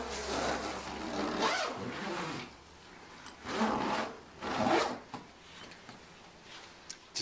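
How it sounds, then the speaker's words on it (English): The front flap of a PackTite Closet heater unit is zipped closed in several close, scratchy zipper pulls with short pauses between them, and no one speaks. "Zip the front flap closed with the thermometer probe extending out."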